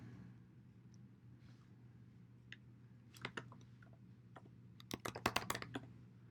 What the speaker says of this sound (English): I'm going to type in my username and password